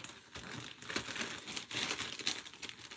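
A plastic bag crinkles and rustles up close in continuous irregular bursts, fairly loud with no talking.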